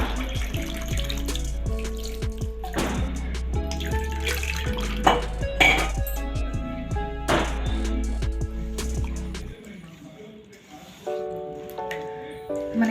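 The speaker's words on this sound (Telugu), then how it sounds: "ఈ చింతపండు గుజ్జు ఇప్పుడు మనం ఇందులో పోసేసుకుందాం" Tamarind pulp water poured into a pot of Andhra-style fish curry, a running, splashing pour with a low steady wash beneath it that stops partway, followed by a few small clinks.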